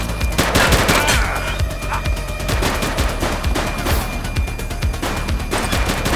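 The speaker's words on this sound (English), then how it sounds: "Shots fired!" Dense, rapid gunfire fills a street shootout in the police video game The Precinct, with overlapping automatic bursts and single shots crackling continuously and loudly, no voices heard.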